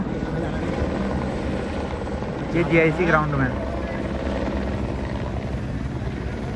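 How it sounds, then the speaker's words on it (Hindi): Helicopters fly over a ground in Almora, a continuous loud thudding rotor drone that stays steady throughout, with someone speaking Hindi over it partway through. "पूरा हेलीकॉप्टर उड़ रहे हैं अल्मोड़ा में देखो ये"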